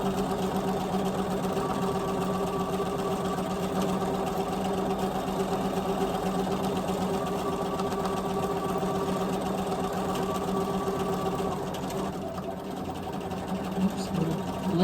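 A sewing machine runs at a fast, steady hum while free-motion quilting and thread-painting a leaf design, with a brief dip in speed near the end.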